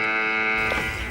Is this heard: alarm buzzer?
yes